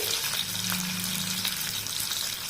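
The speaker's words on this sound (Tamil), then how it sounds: "நறுக்கி வச்சுருக்க கத்திரிக்காயை அதில் சேர்த்துருவோம்" Steady sizzling of eggplant frying in hot oil for a field bean and eggplant curry, a continuous crackling hiss close by with no talking.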